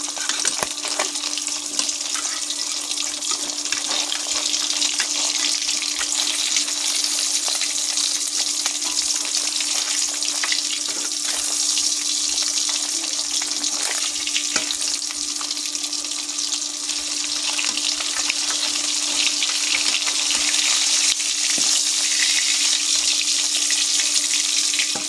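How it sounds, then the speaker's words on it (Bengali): Kalibaus fish sizzles steadily in hot oil in a pan, a dense, continuous crackling hiss that runs close and loud without a break for the whole stretch, with no voices. "মাছ ভাজা হয়ে গেছে, মাছগুলো আমি নামিয়ে নেব।"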